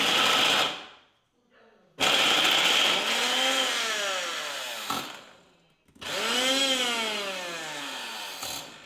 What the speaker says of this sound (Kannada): ಇದನ್ನು ಕೂಡ ಅಷ್ಟೇ ನೀರೇನೋ ಹಾಕ್ತಲೇ ಗ್ರೈಂಡ್ ಮಾಡ್ಕೋಬೇಕು